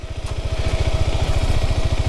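An off-road motorcycle engine running in first gear on a downhill descent putters in a fast, even low-pitched pulse, loud and close, with no talking.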